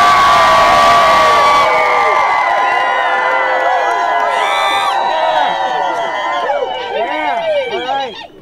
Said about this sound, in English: Everybody yell as loud as you can.